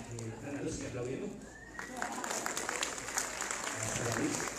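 Audience applause at a motivational conference on the value of life, a lively crowd clapping that builds and holds, with voices mixed in underneath.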